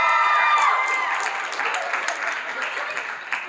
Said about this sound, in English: Let's clap it up for Riley.